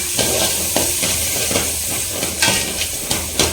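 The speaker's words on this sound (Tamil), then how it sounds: "இந்த சின்ன வெங்காயத்தை வந்து ரோஸ்ட் பண்ணிக்கலாம்" Shallots roasting in butter in a pan while cooking aval masala, a steady sizzle and fry with repeated stirring scrapes recurring about every second, close and fairly loud, no voices.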